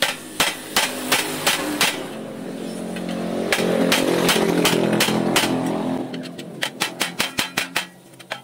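A hammer strikes a chisel against the exhaust pipe of a Motorstar Easyride 150 motorcycle, sharp metallic clanks in irregular bursts, with a louder sustained grinding or engine-like noise filling the middle stretch before the rapid hammer blows return.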